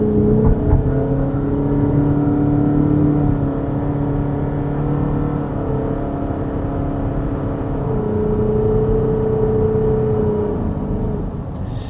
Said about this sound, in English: you get an earful of this continuously variable transmission working very hard to continuously vary its gears